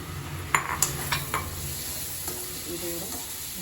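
Onions sautéing in a pan for a homemade river fish curry, a steady low sizzle with a few sharp clinks of a stirring spoon against the pan early on, then a quieter continuous fry with no talk.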